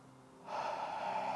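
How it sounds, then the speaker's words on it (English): Human breath during meditation, a single soft, steady airy exhalation that rises from near silence and holds evenly, close and alone with no talking. "your breath makes its own sound"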